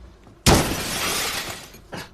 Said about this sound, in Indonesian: Han datang dan memecahkan kaca mobil